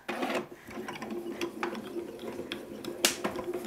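A hand-cranked die-cutting machine rolls a Spellbinders craft die through, giving a close, steady clicking and grinding ratchet sound with a sharper snap near the end, and no talking.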